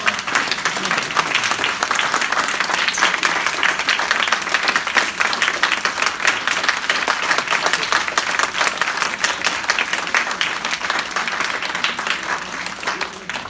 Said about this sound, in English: don't we want to give them a big round of applause?